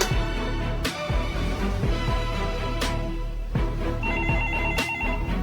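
A telephone bell rings in a film scene, loud and insistent with a steady repeating ring over a thick musical background.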